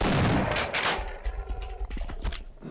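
Gunfire in the video game Half-Life, a loud burst of rapid shots at the start followed by several sharp, punchy reports and clanks, with no voices.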